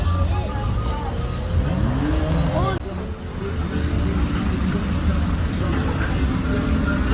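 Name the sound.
car accelerating away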